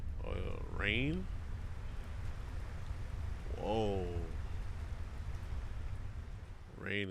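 Steady rain falling in the Final Fantasy XVI video game, a constant wash of drops running through the whole stretch while a man exclaims and game voices speak over it.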